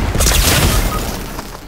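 A sticky bomb goes off in Fortnite with a loud, close, broadband boom that bursts at once and then rumbles away over about a second.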